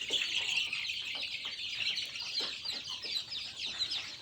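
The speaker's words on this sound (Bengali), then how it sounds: "দেখুন আমার ফার্মি মুরগির বাচ্চাগুলো, দেশি মুরগির বাচ্চাগুলো কতটা চঞ্চল" Busy high-pitched peeping of many farm and native chicken chicks chirping close by, overlapping calls without pause.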